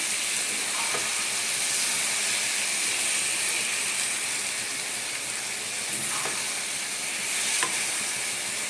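Pineapple cooking down with sugar in a pan sizzles and bubbles steadily, a loud continuous frying hiss with a few faint scrapes of stirring.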